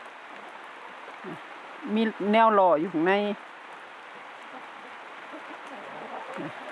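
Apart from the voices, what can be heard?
rain falling outside chicken coop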